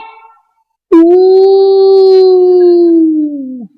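A voice drawls a long, sustained howl-like tone imitating a dog baying at ghosts, loud and close, starting abruptly and sliding downward at the end after a brief quiet gap.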